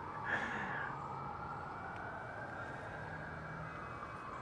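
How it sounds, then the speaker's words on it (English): An emergency vehicle siren wails faintly in the distance in a small town, a drawn-out rising and falling tone over steady background hiss. "also don't mind the siren in the background."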